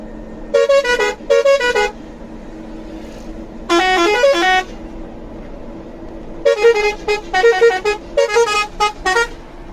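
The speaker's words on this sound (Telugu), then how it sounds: "ఐచర్ హారన్ సౌండ్స్ అయితే వినిపిస్తాను వినండి" Loud musical horn blasts from an Eicher truck in several bursts, short double toots first, then a longer melodic run, and rapid repeated honks near the end, close by.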